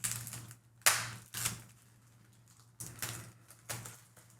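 Plastic wrap around a packaged metal print being cut, heard as a few sharp, faint snips and crinkles spaced irregularly against a low background hum.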